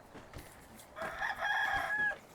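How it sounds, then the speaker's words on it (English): A rooster in Medieval Dynasty crows once in a clear, mid-distance call lasting about a second, over soft ambient rustle with a few faint thuds before it. "Oh, we've got a load of roosters."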